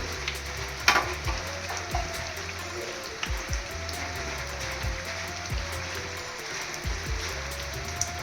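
Mugakayi vada fritters frying in hot oil, a steady, fairly quiet sizzle and bubbling that runs throughout with small irregular crackles and pops, and no talking.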